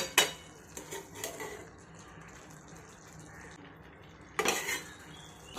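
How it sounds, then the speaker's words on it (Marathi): Ridge gourd being stirred in a pan after the lid is lifted, with sharp clinks of a utensil against the metal at the start and again near the end and soft scraping between. "हे पहा भाजी अशी मधून अधून झाकण काढून हलवून घ्यायची."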